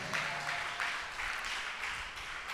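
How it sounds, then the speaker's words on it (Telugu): Congregation at a church sermon clapping together loudly, a dense rhythmic wash of many hands with steady pulses throughout, fairly close and filling the space. "కొట్టు చప్పట్లే గట్టిగా"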